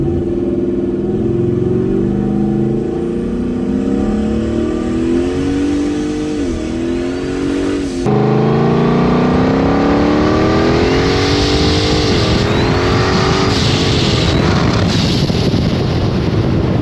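A turbocharged LS-swapped truck engine revs under load while driving, with rising and falling pitch sweeps, loud and close, and a sharp jump in intensity partway through, with wind buffeting on the microphone.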